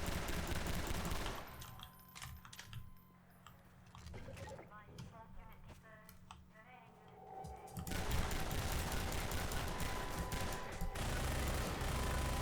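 Video game SMG gunfire, bursts of rapid automatic shots heard at the start and again over the last few seconds, loud and dense, with a quieter stretch between where someone speaks.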